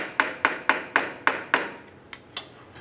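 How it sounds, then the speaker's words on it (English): A screwdriver taps a starter part out of the transfer case area on a 2002-2007 Jeep Liberty: six sharp, evenly spaced metallic knocks, then two fainter ones, close and alone. "Using a screwdriver, we're going to go ahead and try and tap this out of the transfer case area."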